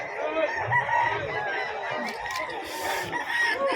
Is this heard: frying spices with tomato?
no